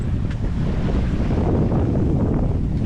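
Strong wind buffeting a sailboat at sea in rough conditions between St Lucia and Bequia, a loud continuous roar of gusts across the microphone with water noise beneath.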